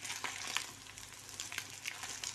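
Two slices of beef loaf fry in a pan, a steady close sizzle with soft crackles and small pops throughout, no voices over it.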